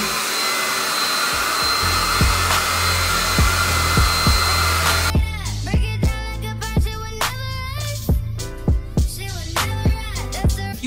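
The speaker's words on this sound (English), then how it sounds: "Set your blow dryer on warm medium heat when you blow dry your hair." A blow dryer set to warm medium heat dries short, tightly coiled 4c hair during a two-strand twist routine, giving a steady, loud whooshing hiss for about five seconds before music takes over.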